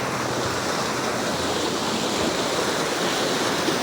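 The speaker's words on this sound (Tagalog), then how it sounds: "Siguro sang grabe ang tubig, sang baskog ang tubig." A stream in Barangay Jamog, Tigbauan, swollen after a typhoon, its rushing water making a loud, steady roar that fills the whole stretch with no voices.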